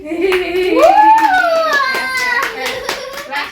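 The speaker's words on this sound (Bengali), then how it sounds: "সবাই মিলে আমরা হাততালি দেই।" Family members clapping hands together at home, a steady run of sharp claps close by, mixed with a voice singing or speaking over them.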